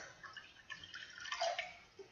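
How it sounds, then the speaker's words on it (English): Water is poured into a glass during a molasses diffusion and osmosis lab setup, a faint, brief splashing pour that rises to a peak and then settles, heard alone in a quiet room. "I'm going to pour 100 milliliters of water into my glass"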